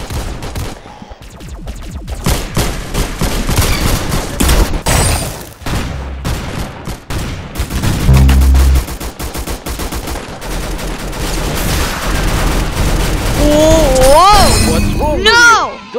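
Rapid bursts of gunfire from a golden gun ring out in the Roblox shooter game Arsenal. The shots fire continuously and loudly over dense game music and effects for the whole stretch.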